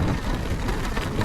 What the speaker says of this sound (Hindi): भयंकर बारिश है, बहुत भयंकर।